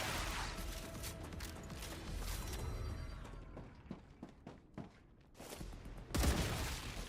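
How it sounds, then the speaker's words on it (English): Magazine change during play in the StarRupture video game: a run of short mechanical clicks and ratcheting metallic clacks, fairly close, between bursts of gunfire at the start and end, with no voices. "Changing mags."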